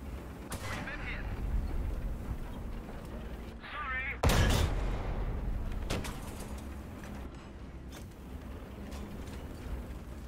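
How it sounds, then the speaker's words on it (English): Howitzer artillery fire in a Battle of the Bulge tank simulation game, a heavy boom midway through with a long rumbling tail and a few lighter gunshots, heard over steady engine rumble while players talk excitedly. "Oh shit, the fucking howitzer!"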